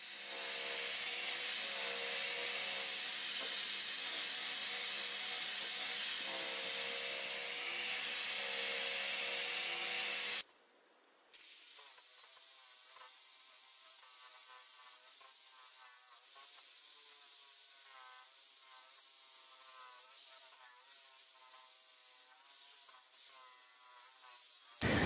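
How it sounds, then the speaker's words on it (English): A high-pitched power drill with a small buffing pad whines steadily as it polishes car paint to remove scratches, cuts out briefly, then starts again and runs with a slightly different pitch. "you could use a drill with one of these adapters for these little buffing pads"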